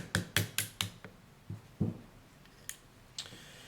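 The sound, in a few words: punch tapping out Glock 23 locking block pin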